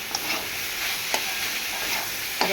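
Banana flower (kolar mocha) curry stirs and sizzles in a pan, a steady frying hiss broken by a few soft scraping clicks of a spoon.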